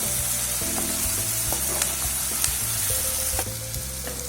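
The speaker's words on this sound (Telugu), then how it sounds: "అల్లం వెల్లుల్లి పేస్ట్ కొద్దిగా నూనెలో మగ్గనివ్వాలి." Ginger garlic paste fries in hot oil for Andhra-style gongura chicken, giving a continuous close sizzle with scattered small pops and faint stirring clicks throughout.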